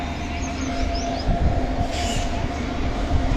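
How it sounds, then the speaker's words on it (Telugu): The Repalle–Secunderabad passenger train rumbles into Chandravaram railway station, a loud steady low roar with rhythmic wheel thumps and a faint high squeal. "రేపల్లా సికింద్రాబాద్ ట్రైన్ 7:51 చంద్రవరం రైల్వే స్టేషన్లోకి వచ్చేసింది."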